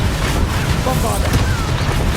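A Bombarda explosion spell detonates in Hogwarts Legacy during a boss fight, giving a loud, dense booming rumble that holds for the whole short moment, with a voice shouting over it.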